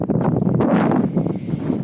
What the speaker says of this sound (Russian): Правда, ветер дует.